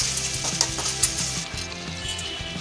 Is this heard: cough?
no